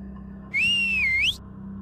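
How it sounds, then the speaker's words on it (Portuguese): A single clear whistled note rises and wavers for under a second against a quiet background hum. "E o assobio foi repetido."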